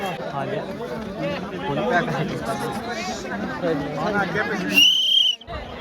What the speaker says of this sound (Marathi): बघू शकता तुम्ही किती गर्दी आहे रायगडावर